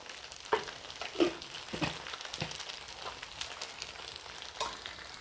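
Soybeans fry in oil with curry leaves, a quiet, even sizzle broken by a few soft stirring scrapes and taps.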